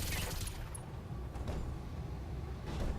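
Machine guns rattle against a mech in the BattleTech video game, a dense, continuous burst of rapid gunfire with heavy low rumble and impacts filling the whole moment.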